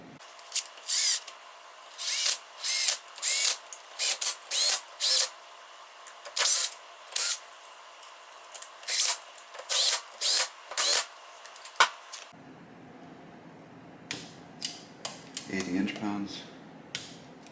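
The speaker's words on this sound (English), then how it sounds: "So I'm going to put the crank bolts in now." Crank bolts being fitted on the engine of a 2005 Kawasaki KX65 during a rebuild: a series of short, sharp metallic ratchet-like clicks in quick bursts, close and clear, then quieter tool handling with faint movement toward the end.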